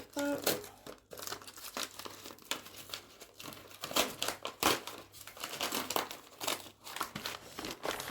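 Someone opens a jewelry parcel, crinkling and tearing its plastic and paper wrapping in quick, uneven bursts close by, with a voice speaking at moments.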